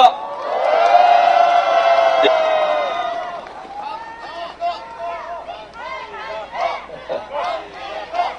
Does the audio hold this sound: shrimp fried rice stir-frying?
no